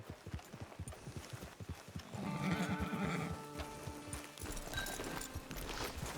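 Horse hooves clip-clop in a steady rhythm in Red Dead Redemption 2, then a loud whinny rises midway, followed by more hoofbeats nearby.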